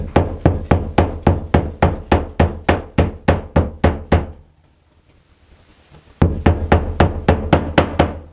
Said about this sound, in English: we're going to take a hammer and we're going to tap it in until it's flush.